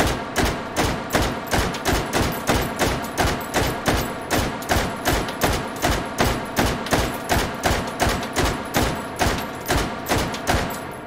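A VZ58 rifle fired semi-automatically with its stock folded, a long, evenly paced string of loud, close gunshots at roughly three per second, each with a short sharp decay.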